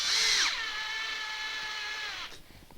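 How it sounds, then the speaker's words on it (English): Power drill driving a 30mm screw through a lathe faceplate into a wooden bowl blank, a close, loud whine that speeds up, holds steady for about two seconds, then stops abruptly and leaves faint clicks. "I'm just using some sensible screws just to attach the faceplate"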